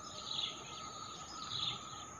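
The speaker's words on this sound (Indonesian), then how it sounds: "Burung perkututnya bunyi terus, guys." A pair of zebra doves (perkutut) calls from a leafless tree outdoors, giving faint, high chirping notes in two short bursts over steady background hiss.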